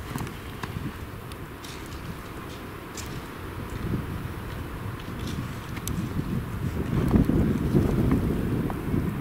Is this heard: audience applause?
no